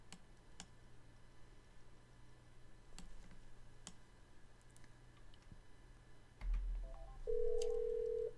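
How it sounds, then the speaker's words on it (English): An incoming call rings on the NEC SV9100 UC Suite client, a faint tonal ring with a few scattered soft clicks over a quiet, steady background hum, and no talking. "Here's an incoming call with my client minimized."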